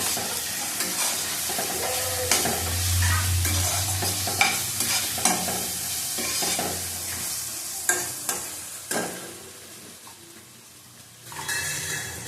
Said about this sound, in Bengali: আদা বাটা দিলাম, রসুন বাটা দিলাম। ভালো করে কষিয়ে নেব।